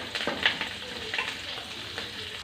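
Curry leaves crackle in a couple of spoons of hot oil, a quiet sizzle broken by several sharp pops and spatters across a short span, close by and with no voices.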